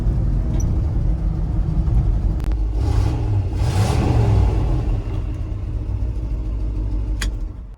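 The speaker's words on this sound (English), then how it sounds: "Running and driving after God knows how many years of sitting with a locked up" A 1969 Ford F-100 pickup, revived after years sitting with a locked-up motor, runs and drives with a loud, steady low rumble. The engine surges briefly and a couple of sharp clunks sound, with no talk.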